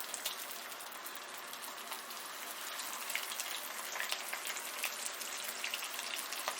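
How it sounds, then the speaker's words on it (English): Fish fries in a thin layer of hot oil in a pan, giving a continuous, even crackling sizzle with fine pops throughout and no talking. "After frying for 2 minutes, turn the pan and fry the fish around"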